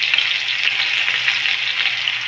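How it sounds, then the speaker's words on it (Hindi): Onion drops into hot oil with asafoetida and cumin and fries with a steady, bright sizzle, a dense crackling hiss that carries on evenly and close by, with no voices. "हींग जीरा डाल दिया है मैंने और हम डाल दे रही हूँ वो प्याज"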